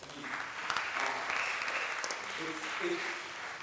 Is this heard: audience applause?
yes